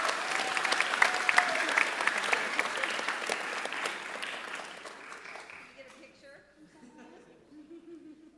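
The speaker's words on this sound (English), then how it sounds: "Let's give them one more round of applause as a group." A school assembly audience applauds a student honor society group, dense clapping at first that thins and fades while a few voices chatter and someone speaks over the tail.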